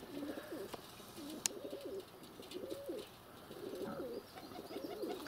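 Pigeons coo in a repeated rhythmic series of soft, throaty phrases, close by but quiet, outdoors at sunrise with faint background hiss.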